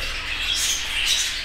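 Budgerigars of many colours in a breeder's aviary give dense, shrill squawking and chirping, a continuous close chorus with a few louder bursts and no talk.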